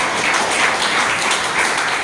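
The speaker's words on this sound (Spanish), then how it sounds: "Denle otro aplauso al Señor, aleluya." A church congregation applauds the Lord during a Christmas sermon, a dense, steady wash of many hands clapping throughout at moderate loudness, with no talk over it.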